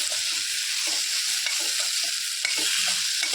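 Tomatoes and onions with a pinch of salt are stirred in a hot pan for a quick tomato chutney, making a constant close sizzle broken by soft spatula scrapes, with no talking.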